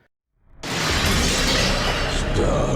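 Glass shatters loudly as Nemesis crashes through the police station window in Resident Evil, a sudden burst after near silence that fills the space with a dense, sustained crashing spray of debris.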